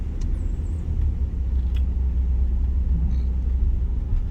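A car rolls slowly over a road hump on Clubhouse Road in Lakeland, Florida, a steady low engine rumble and tyre drone with faint ticks, heard from inside at a constant moderate level.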